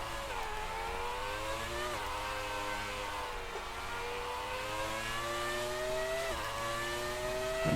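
An F1 race car in a video game accelerates out of a bend. The high engine whine climbs steadily in pitch, dips briefly at gear changes, and carries on continuous and loud with no talk.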